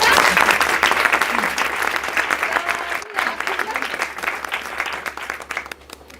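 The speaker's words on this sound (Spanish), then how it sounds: "le damos un cálido aplauso a Alicia" An audience at a university talk on perimenopause gives a speaker a warm welcoming round of applause, dense and loud, thinning briefly midway and then swelling again, with some voices underneath.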